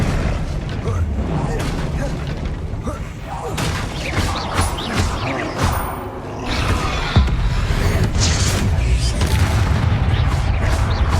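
Explosive spells cast in the Hogwarts Legacy video game, dense loud booms and crashing blasts piling up continuously in combat, with voiced spell incantations heard among the noise.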